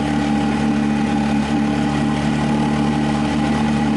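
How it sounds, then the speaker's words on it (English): A two-stroke boat engine runs steadily at idle, a constant close buzzing hum with no talk over it. "So it is running. You can see it smokes a little bit. It is a two-stroke."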